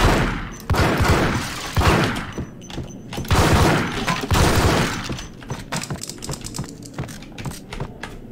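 Shotgun blasts in the third-person shooter Max Payne, several heavy booming shots at irregular intervals mixed with clattering debris and breaking glass, loud and close, tailing off into scattered crackles.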